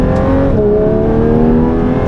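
A Porsche 992.2 GT3 engine accelerating at night on the Dubai Autodrome, a loud, close, sustained engine roar with steady rising pitch heard from inside the car.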